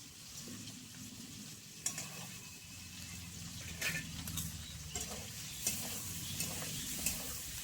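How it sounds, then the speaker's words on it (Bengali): Paneer pieces fry gently in oil in a pan, giving a soft, continuous sizzle. Intermittent scraping and clinking of a spatula stirring them sits over a low background hum, with no talking. "এবার আমি পনিরটা ভেজে নেব।"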